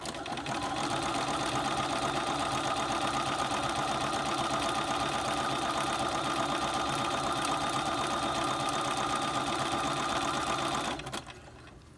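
A sewing machine stitches an elastic casing at a steady, continuous pace for about ten seconds, a close, even mechanical hum that slows and stops near the end.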